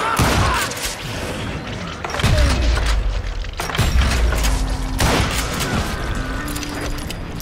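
Loud gunshots in the western shooter Call of Juarez: Gunslinger, several heavy booming blasts spaced a second or so apart amid echoing game sounds, close and forceful.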